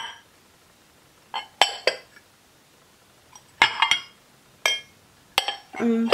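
Denby Manor Green stoneware gratin dishes clink and knock together as they are handled, a series of sharp ceramic taps arriving in irregular clusters against a quiet room, with no voices.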